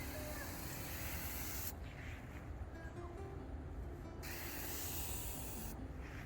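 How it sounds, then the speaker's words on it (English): Kobalt 40V Max 4-gallon plastic battery backpack sprayer with a yellow tip spraying in steady hissing bursts, two long sprays broken by brief pauses, close and fairly quiet. "just kind of walk around, spray"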